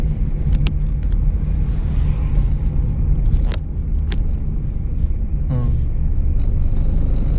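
A car engine hums steadily through a driving lesson in Solan, loud and close, with a slight rise like revving near the end and a few brief clicks.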